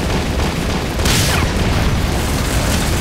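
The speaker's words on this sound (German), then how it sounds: "Oh, die explodiert." Explosion in Metal Gear Solid V: The Phantom Pain, a heavy, loud booming blast bursting out of dense ongoing game noise, sustained rumble throughout.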